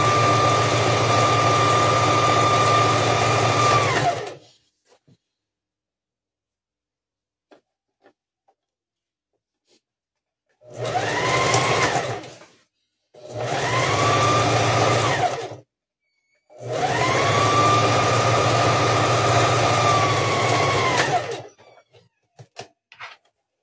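Sewing machine stitching a fabric panettone cover shaped like a Christmas house: four bursts of steady motor whirring separated by silences, starting and stopping abruptly, close and fairly loud, with faint clicks at the end.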